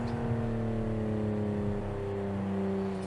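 A turbocharged Porsche-style rear-engine car in the BeamNG driving game holds a steady droning engine note that creeps upward slowly, like a turbo spooling through lag.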